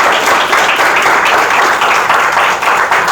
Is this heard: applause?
yes